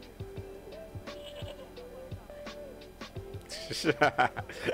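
Goat bleating in the Broken Sword 2 video game, short wavering bleats repeated several times over game music, growing louder and busier toward the end.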